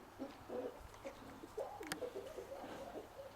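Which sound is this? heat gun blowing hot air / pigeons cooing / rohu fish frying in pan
pigeons cooing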